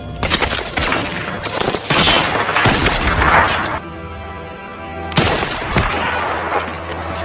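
A shootout from the film A Walk Among the Tombstones: loud bursts of rapid gunfire and heavy cracks, a brief lull, then another volley of shots.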